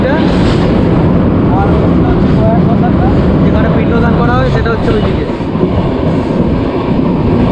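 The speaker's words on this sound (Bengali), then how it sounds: "ঘাট সেকশানে ব্যাপক লাগে ট্রেন যখন ঢোকে" A train rumbles loudly and steadily through a ghat section, with rhythmic rail clatter and occasional squeals, while a voice talks over it.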